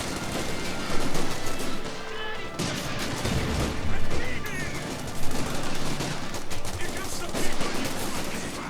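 Dense video game gunfire from a clan match between Royal Engineers and the opposing side, with rapid bursts and one heavier blast standing out among the crackle. The whole passage stays loud and busy, with no pause in the shooting.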